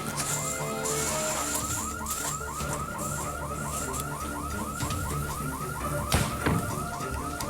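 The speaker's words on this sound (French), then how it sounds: "L'alarme s'est déclenchée." A car alarm whoops in rapid repeating rising chirps, steady and ongoing, with a couple of sharp knocks near the end.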